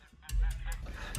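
Several loud, close goose honks come in quick bursts over a low rumbling background.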